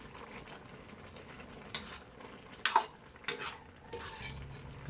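Green chilies drop into a pan of sautéed mixed vegetables with ampalaya, giving a few faint clinks and scrapes of a utensil against the pan over a low simmer, quiet and close.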